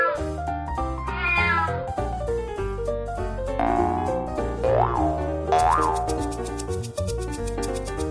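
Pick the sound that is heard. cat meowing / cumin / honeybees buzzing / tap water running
cat meowing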